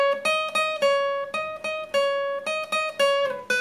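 A clean electric guitar plays a slow riff for a song, plucked notes ringing one after another at an unhurried, uneven pace, close and alone with no voice.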